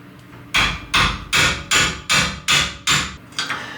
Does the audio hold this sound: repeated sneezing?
no